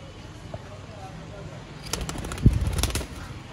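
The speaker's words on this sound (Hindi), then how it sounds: "सियालकोटी छत वाले कबूतर" Against a low background hum, a sudden flurry of wing flaps bursts out for about a second, close by, as pigeons take off from a rooftop.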